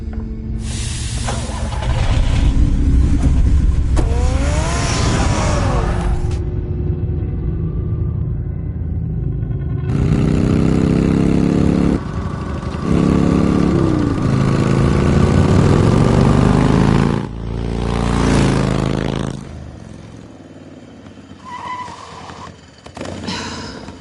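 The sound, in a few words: Batman's car engine running in Batman Telltale video game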